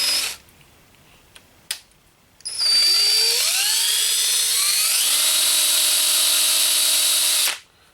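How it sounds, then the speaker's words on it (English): A small rotary power tool reams out a hole in leather for a rivet, spinning up after a few faint taps into a loud, steady high-pitched whine that holds for several seconds and then cuts off. "what I'm going to do is kind of ream that out just a little bit more"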